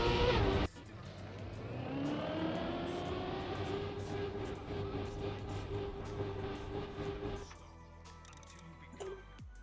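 Racing cars in the Trackmania driving game, a continuous engine whine that rises in pitch as the car accelerates, steady for several seconds before dropping away, with no talking.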